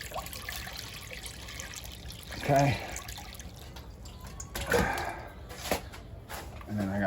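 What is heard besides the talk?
water trickling in a chop saw converted to a tile wet saw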